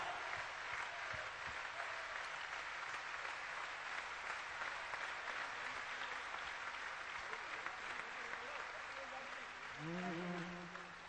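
Sustained applause from a large crowd in a pavilion at a religious festival in Chennai, steady and loud throughout, with a faint sung melody emerging near the end.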